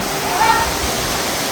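Water sprayed to bathe elephants in the heat at Pinnawala Elephant Orphanage in Sri Lanka, a steady close hiss and splash that runs unbroken, with a brief high tone or voice near the start.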